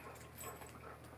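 A dog whimpers faintly in a short, soft whine, quiet and close, with light breathing under it.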